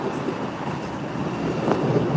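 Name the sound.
MBTA Red Line subway train passing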